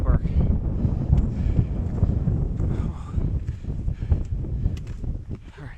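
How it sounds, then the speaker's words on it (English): Strong gusty wind buffets the microphone with continuous low rumbling on a mountain trail on the trek up Mt. Whitney near Sequoia National Park, with a person speaking over it. "And now, we've hit some wind."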